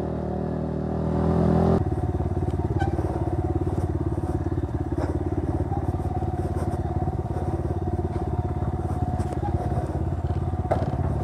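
A cafe racer motorcycle rides over a rough road, its steady engine drone joined by rattles and knocks from the bumpy surface, close and continuous.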